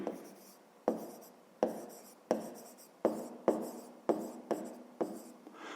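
A pen writes an equation on paper in a series of about nine short, scratchy strokes. They come in a steady rhythm, close and fairly quiet, with no talking.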